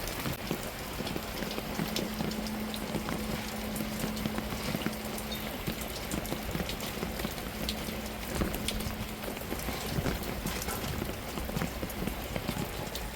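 Steady rain falls continuously at a household in a Tamil-speaking area, a dense even hiss with scattered drop impacts and a faint low hum throughout, no talk.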